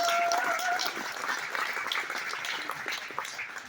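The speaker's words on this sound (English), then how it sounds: "Let's give these students a big round of applause for the progress they've made so far" A crowd applauds students rebuilding a race engine for a UNOH motorsports team, a fairly faint, even wash of clapping throughout, with a brief whistle-like tone near the start.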